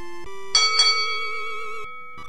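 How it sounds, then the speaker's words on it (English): Bell chime from the DuckTales video game: a short bright tone, a second one, then a longer ringing chime with a wavering sustain, fading into a softer tone, loud and alone with no talking. "Now ring the bell."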